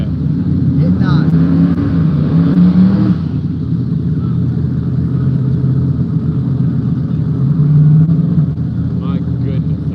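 Race cars on a no-prep drag strip in the woods, engines roaring loud and steady with a surge that rises and then drops back to a lower drone.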